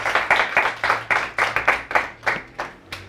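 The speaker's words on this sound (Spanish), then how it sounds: "primero un aplauso para el video" Audience applause at an academic talk, a small group clapping in a sparse, uneven patter of distinct hand claps that thins out toward the end, with no voices over it.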